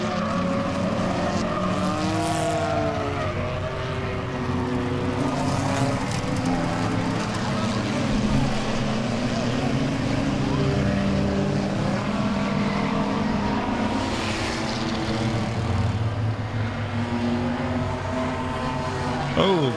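Enduro race cars at Langley Speedway roar past in a steady, loud engine drone with rising and falling pitch sweeps as cars pass, under continuous commentary.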